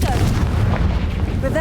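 The Confringo fire spell in the video game Hogwarts Legacy lands as a loud, booming blast with a rumbling, explosive tail that fills the whole moment, with a voice present in the mix.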